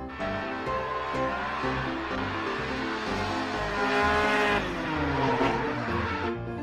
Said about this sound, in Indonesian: Di sini ada mobil balap warna hijau.